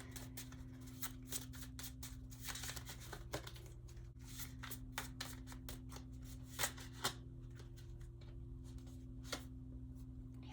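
A deck of oracle cards is shuffled in soft, quiet riffles and flicks, with rapid irregular clicks over a low steady hum and no talking.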